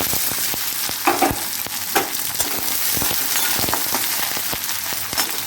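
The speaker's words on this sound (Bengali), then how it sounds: "ভালো করে লাল লাল করে একটু ভেজে নেব" Chopped onions fry until browned in a pan with dried red chilli and black cumin: a steady, close sizzle with frequent crackles and the clink of stirring, no talking.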